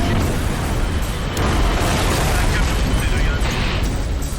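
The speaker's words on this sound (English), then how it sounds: "The explosions send tanks flying through the air, littering the area with dozens of canisters." Gas tanks explode at a train crash as a continuous, loud, roaring rumble of blasts and burning, dense and unbroken throughout.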